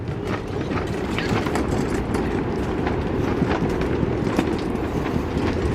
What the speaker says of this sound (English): you get to ride on a train. Choo-choo train.